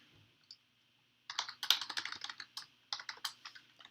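Code is typed on a computer keyboard in close, crisp bursts of key clicks. A single tap comes first, then a rapid run of keystrokes with brief pauses, and no talking.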